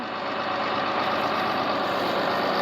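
A large new four-wheel-drive tractor with dual wheels runs its engine, a steady, dense diesel rumble and drone with no breaks, heard from inside the cab at a constant loud level.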